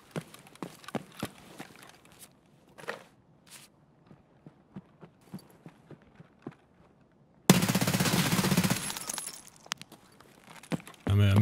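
MP7 gunfire in a video game, a sustained loud automatic burst erupting late after a stretch of quieter footsteps and clinking movement sounds, with a short final burst at the very end.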